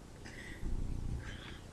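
A cat purrs with a low, rough, continuous rumble that swells in the middle, with faint higher meow-like tones drifting above it.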